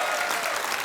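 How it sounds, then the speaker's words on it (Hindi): A brief burst of studio-audience applause on a televised comedy talk show, a thick, even wash of clapping throughout. "जोरदार तालियां इसके लिए।"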